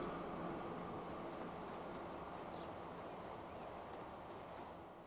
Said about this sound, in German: Okay, der Zug ist da.